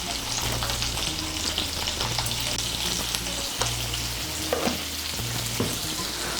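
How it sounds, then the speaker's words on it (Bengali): Boiled potato pieces fry in leftover oil in a kadai after paneer, seasoned with salt and turmeric, giving a loud steady sizzle with occasional stirring clinks and no talk. "পনির ভাজার পর কড়াইতে যে তেল আছে এই তেলে আলুগুলো ভেজে নেব"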